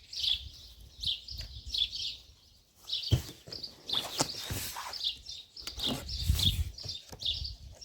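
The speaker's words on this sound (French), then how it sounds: "je vais essayer de parler plus fort que les oiseaux, hein, parce que on les entend bien ce matin" Birds sing and chirp in repeated bright bursts throughout a morning outdoors, fairly close and clear, with a few low thumps and handling noises in between.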